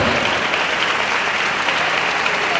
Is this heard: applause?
yes